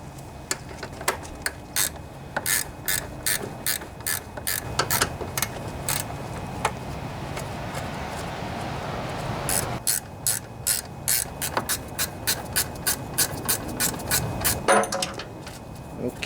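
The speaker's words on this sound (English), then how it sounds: "So I'm going to grab a 3/8 inch socket and take that off." A hand ratchet with a 3/8 inch socket rapidly clicks through bursts of strokes, each burst a sharp, close rattling run, while loosening engine cover bolts on a Briggs and Stratton 18.5 hp V-Twin OHV Intek lawnmower engine.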